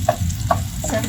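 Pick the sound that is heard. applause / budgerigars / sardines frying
sardines frying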